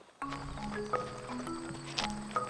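A ridden horse clip-clops at a steady walking pace, hooves moderately close, with sustained tonal music running underneath throughout.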